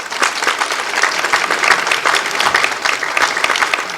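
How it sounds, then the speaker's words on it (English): An audience applauds at the inauguration of the ARE conference and Energy Swaraj Awards, with steady, loud, dense clapping sustained for the full stretch without any voices. "I think this definitely calls for a big round of applause"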